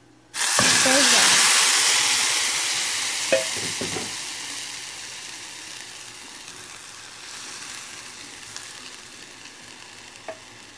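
Beans hit a pan of well-browned food with a loud burst of sizzling hiss that slowly settles into a steady fry, with a few sharp utensil clacks from stirring, close up and without talking.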